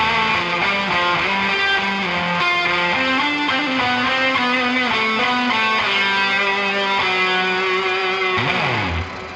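Electric guitar through a long Astral density reverb pedal with added sub, sustained chords and melodic lines washing into a dense, lingering tail, ending in a pitch-bending swoop; played alone, loud and steady.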